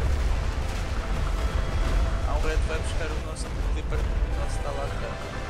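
Booming cannon blasts from naval warfare in the video game ArcheAge roll out in a rapid series over a dense rumble, with a voice talking faintly underneath.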